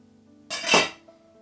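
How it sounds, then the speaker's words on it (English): A knife scores the skin of a sausage on a kitchen surface: one short, close scraping cut, with a faint clink at its end. "Quite simply, score a sausage with a knife."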